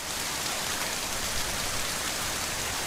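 Steady rain falls as a sound effect opening a recited poem about rain, an even, dense hiss of drops on a surface with no pauses and no voices.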